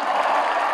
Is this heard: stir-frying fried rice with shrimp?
no